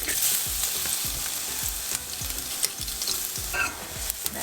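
A crushed garlic clove fries in heated oil with a close, bright crackle, while a spoon knocks against the pan in a quick regular rhythm of low taps.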